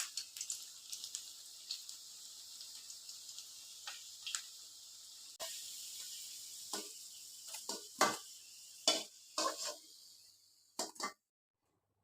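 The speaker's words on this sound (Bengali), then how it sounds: "হালকা করে আলুটা ভেজে নিতে হবে।" Potatoes frying lightly in a pan for biryani, giving a soft continuous sizzle with scattered pops and ticks, growing more crackly and uneven toward the end, heard alone without talk.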